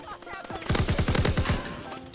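An FG gun in Call of Duty fires a fast, close, loud burst of about eight sharp shots, with a brief quieter tail after it.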